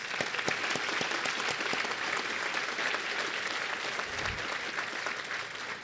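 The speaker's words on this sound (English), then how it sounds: "Let's give them a round of applause." An audience gives a sustained round of applause for contractors and partners, a dense, even wash of many hands clapping that holds steady and fairly loud for about six seconds with no speech.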